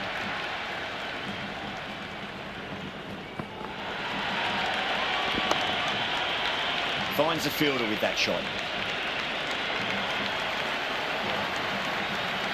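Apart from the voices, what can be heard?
cricket stadium crowd buzzing, from video game Cricket 26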